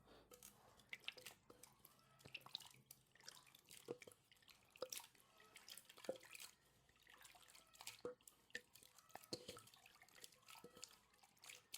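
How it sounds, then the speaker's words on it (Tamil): Cut potatoes rinsed by hand in a bowl of water while making French fries: faint, sparse sloshes, drips and small splashes with light knocks, close and quiet throughout. "கலர் கொஞ்சம் பியூராக ஒயிட் கலரில் இருக்க வரைக்கும் நல்லா நம்ம அலசணும்"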